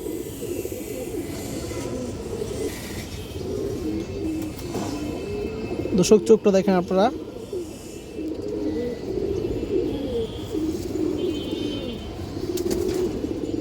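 Colourful flying pigeons coo in low, murmuring phrases that run steadily through the scene, with a brief burst of louder sound in the middle and someone speaking a few words.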